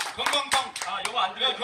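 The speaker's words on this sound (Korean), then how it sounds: "박수 한번 주세요." A few scattered hand claps ring out at a Korean hometown association's spring outdoor gathering, brief and uneven, mixed with talking voices rather than full sustained applause.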